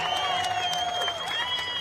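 Hometown rally crowd applauding for a congressman, a continuous broad wash of clapping with cheering and crowd noise, steady and fairly loud, with a sustained tonal whistle or cheer riding over the top.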